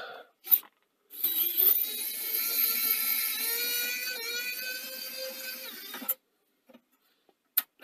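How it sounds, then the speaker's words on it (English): A cordless electric screwdriver low on charge whirs steadily for about five seconds, its motor pitch wavering and sagging slightly, close and alone, framed by brief clicks before and after. "Sounds like I could do with a charge on my screwdriver."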